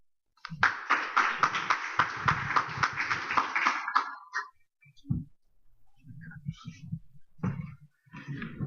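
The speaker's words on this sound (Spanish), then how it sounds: "Damos un aplauso, por favor." Audience applause before a medical lecture on adolescent ACL injuries, a burst of close, crisp clapping for about four seconds that then dies away into scattered sparse claps and a few faint voices.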